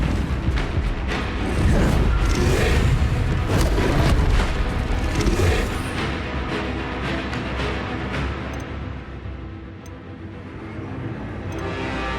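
Booming spell explosions in the Hogwarts Legacy video game, including Bombarda blasts, roll out as a loud, dense barrage for the first half and then fade into a lower, lingering rumble.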